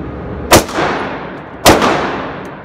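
Two sharp, loud gunshots from a Taurus PT1911 pistol being fired during a torture test, about a second apart, each with a short echoing tail and no talk.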